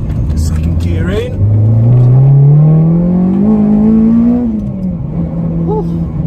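A modified Honda EP3 Civic Type R with a 270bhp K24 engine pulls hard in second gear on country lanes, its loud, close engine note climbing steadily in pitch for several seconds before easing off at the shift, alone with no talk.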